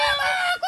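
A person imitates a rooster crowing, giving a loud, close, strained call that holds for most of a second, dips briefly, then rises again at the end with no background noise.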